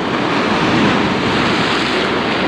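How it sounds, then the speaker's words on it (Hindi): Strong sea waves at Bekal beach in Kerala make a loud, continuous roar of surf, with wind buffeting the microphone throughout and no voices. "पानी की लहर बहुत तेज है"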